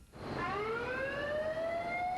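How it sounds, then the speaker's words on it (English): A rising wailing evacuation siren sounds alone, starting abruptly and sweeping upward in pitch as it winds up, loud and steady with a rich harmonic tone. "the signal that is used, usually a horn or siren, to notify personnel that an evacuation is required."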